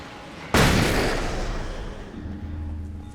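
A sudden, loud flashbang blast in Alan Wake's American Nightmare gives way to a long, decaying rumble and a faint lingering tone.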